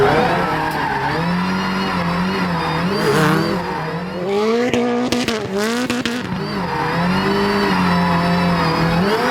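Travis Pastrana's 862bhp Subaru Huckster spinning through a reverse entry under the handbrake, with its engine revving hard and its tires skidding and squealing continuously. Loud and close throughout, with a rougher burst of tire scrub in the middle.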